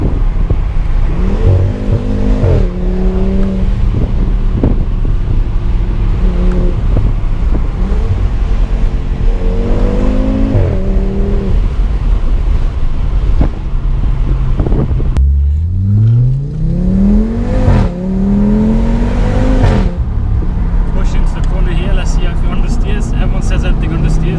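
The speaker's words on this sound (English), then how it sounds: "Slow down again and do another second gear pull." An Audi RS3 in sport mode pulling hard in second gear, its five-cylinder engine droning loud and close inside the cabin, pitch climbing through repeated rising sweeps with a deep rev surge near the end, a voice talking over it.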